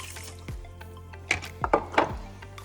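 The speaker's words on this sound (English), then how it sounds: "I'm going to add 1 cup of water." Water poured from a cup into a rice cooker pot holding rice, heard as a few short splashing gurgles near the end, close and modest in level, with no talk.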